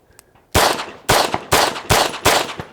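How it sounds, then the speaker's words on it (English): Handgun fired one-handed in rapid, aggressive strings: five loud, sharp shots spaced roughly half a second apart, each with a short ringing tail, close and without speech. "you need to be able to shoot that gun rapidly, aggressively, and accurately"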